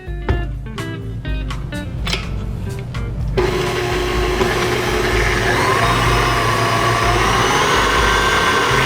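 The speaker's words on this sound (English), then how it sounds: "I'm at 6 now on my KitchenAid" A KitchenAid stand mixer whips cream with sugar, first with a few light scraping knocks, then cranked up to speed 6 for a loud, steady motor whir and churning hum that carries on without a break.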